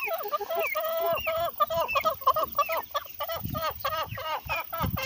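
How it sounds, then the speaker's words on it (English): Backyard farm flock of about 25 egg-laying chickens clucking and squawking close by, a busy overlapping chorus of repeated calls filling the whole stretch with no pause. "we have about 25 of these chickens back here that lay us eggs."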